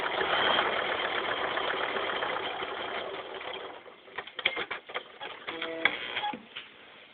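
A sewing machine stitches T-shirt quilt fabric, starting with a steady whirring hum and then turning into short stop-start bursts of needle clatter, heard up close with no voices.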